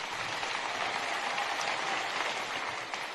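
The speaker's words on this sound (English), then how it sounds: "That does deserve an applause." An audience at a speech in a high school in Marietta, Georgia claps in a dense, even burst that stays steady throughout, sounding full and somewhat distant.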